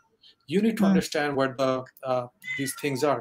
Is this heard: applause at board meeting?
no